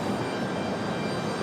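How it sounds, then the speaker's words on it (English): A JetBlue Airbus A220-300 arrives at Raleigh-Durham airport, its engines a steady, loud broadband roar with no voices over it. "The A220 300, our first A220 of the day."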